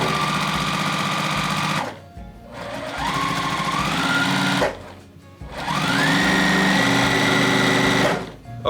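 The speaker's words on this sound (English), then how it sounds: "So let's start sewing." A sewing machine stitches a scrappy patchwork fabric dog bed, running in three long, steady whirring passes separated by brief pauses, loud and close with no talking.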